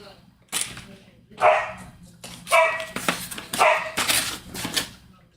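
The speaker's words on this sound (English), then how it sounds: "And if you guys can hear Apollo outside barking" A dog barks several times in short bursts outside at moderate distance, heard alongside a person talking nearby indoors.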